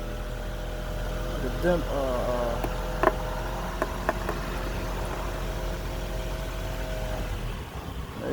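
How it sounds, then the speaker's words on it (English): A 2008–2012 Honda Accord engine runs at a steady low idle while the car creeps up onto oil-change ramps, with a person talking throughout and a few small knocks near the end. "Just push them up to the tire and make sure it's centered and drive up."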